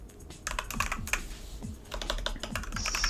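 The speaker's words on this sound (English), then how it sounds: "Do you see what I'm typing?" Rapid keystrokes on a computer keyboard, a steady run of close, crisp clicks and clacks with brief pauses, while coding an x86 assembly operating system.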